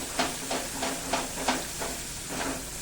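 Masala for cluster bean curry sautés in oil over a low flame, giving a soft steady sizzle broken by rhythmic stirring scrapes about every third of a second, close and unaccompanied by talk.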